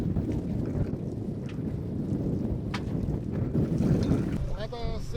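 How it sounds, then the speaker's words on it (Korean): Strong wind buffets a fishing boat off Marado, Jeju, on high waves, a constant rough roar of wind and sea with brief mechanical clicks and a voice heard faintly near the end. "갑자기 바람이 세지더니 파도가 높아졌습니다"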